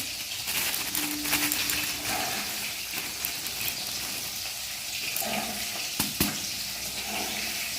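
Soybean chunks frying in a home kitchen pan give a steady broadband sizzle, with a few clinks and scrapes and a faint running-water sound in the background, and no talking.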